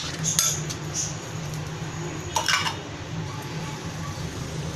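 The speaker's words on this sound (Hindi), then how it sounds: "इसको खूब अच्छे तरीके से मिक्स करेंगे हम।" A spoon clinks and scrapes against a bowl as ground spices, garam masala and red chili powder are stirred together, with light intermittent metallic taps over a faint steady background hum.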